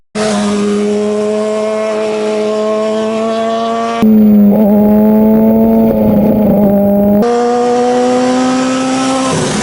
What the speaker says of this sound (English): I love hearing the exhaust.